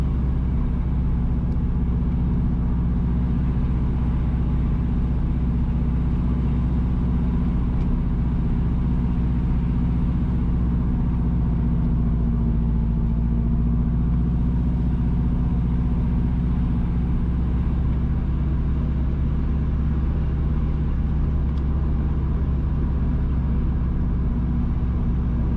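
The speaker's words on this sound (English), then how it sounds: "Currently, we are driving southwest from Cassava Pond towards Worthy Park, St. Catherine Parish." A car drives a rural road between Cassava Pond and Worthy Park in St. Catherine Parish, Jamaica, giving a steady loud interior engine and road rumble that holds evenly throughout without pauses.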